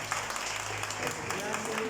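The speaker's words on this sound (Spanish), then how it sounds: "Los niños pueden darle un aplauso al Señor" Children applauding in a church service, a brief burst of steady clapping with a voice speaking over it.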